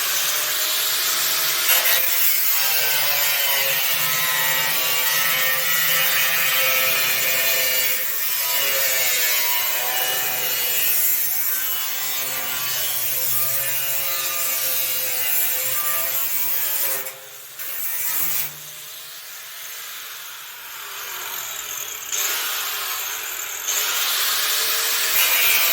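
A metal drum is cut with steady, loud, continuous grinding and rasping that runs almost without pause for about half a minute, with only brief dips in intensity.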